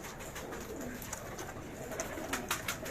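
A flock of high-flyer pigeons in Karachi keeps up a low, continuous cooing and rustle, with short sharper calls popping out now and then against steady background noise.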